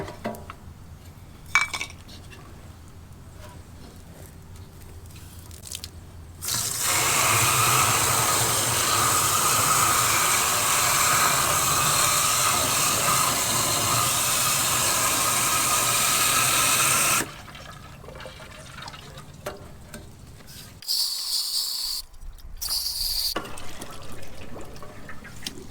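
Liquid gushes loudly and steadily for about ten seconds while a hydraulic part of a digger is being flushed, bracketed by quieter handling clatter and metallic knocks before and after.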